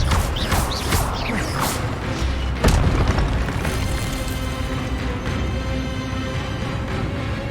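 A spell effect from the Hogwarts Legacy video game: dense, loud booming bursts with crashing impacts, one sharp blast near the middle standing out above a continuous rumbling, layered mix of magical combat sounds.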